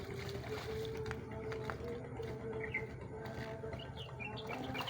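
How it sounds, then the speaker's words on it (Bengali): A trawler motors along a village river at dusk, its engine a steady, continuous low drone throughout, with faint bird chirps scattered over it. "দেখেন দেখেন ট্রলার যাচ্ছে কত সুন্দর।"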